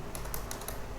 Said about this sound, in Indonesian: Ini langsung kita bisa ngetik.